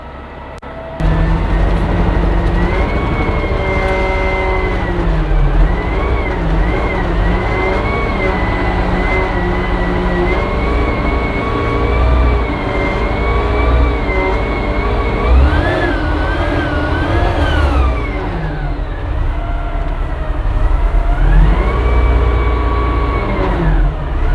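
Engine of a used 2007 Linde 42-ton forklift on a test drive, a steady close-up drone that rises and falls in pitch as it revs, continuous and loud throughout with no talk.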